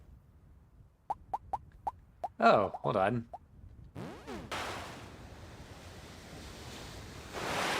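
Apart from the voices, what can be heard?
water splashing in Rune Factory video game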